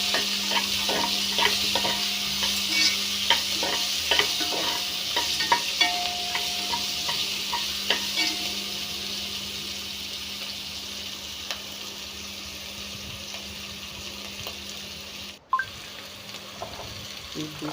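Beetroot being added and stirred into softened onions frying in a pan, with a steady low sizzle under repeated scraping and clinking stirs that thin out toward the end.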